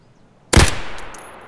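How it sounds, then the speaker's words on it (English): A single sharp gunshot cracks out suddenly in the video game Escape from Tarkov, followed by a lingering echoing tail and a couple of faint distant pops. "heard some gunshots pretty much coming in this area"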